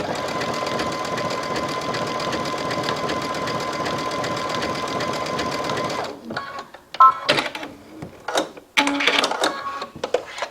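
A sewing machine stitches a dotted zigzag seam along fabric with a steady, continuous mechanical whir for about six seconds, then stops, leaving scattered handling clicks and rustles.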